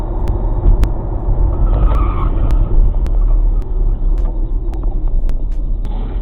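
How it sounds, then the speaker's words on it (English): Car tires skidding and squealing in dashcam footage of a crash, a loud continuous rumble of road noise and engine with sharp clicks scattered through it. "How does a crash like this even occur?"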